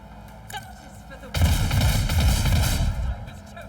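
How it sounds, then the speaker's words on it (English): Gunfire in Warhammer 40k: Rogue Trader: after a quiet start, a loud, rumbling volley of rapid shots erupts and sustains for nearly two seconds before fading. "Now we get to shoot him."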